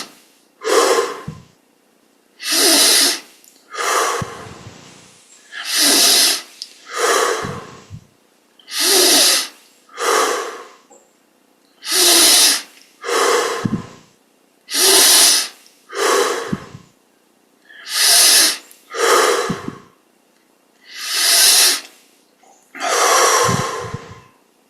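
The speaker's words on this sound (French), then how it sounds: "25 grandes respirations." Deep, loud breaths during a seated meditation exercise at a Yogoda chant and meditation festival, with about sixteen slow rhythmic inhales and exhales, each a rushing airy whoosh separated by short pauses, close to the microphone.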